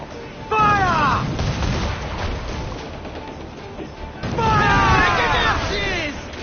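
Ship cannons in Assassin's Creed 4 Black Flag fire in two loud, booming bursts with crackling debris, heard alongside shouting crew voices.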